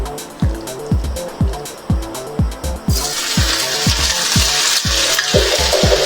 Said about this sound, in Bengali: আমি চিকেনগুলো ধীরে ধীরে ভেজে নেব।